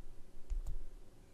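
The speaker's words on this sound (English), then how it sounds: "V-A-W-L on your keyboard" Typing on a computer keyboard yields two quick close key clicks in a quiet room.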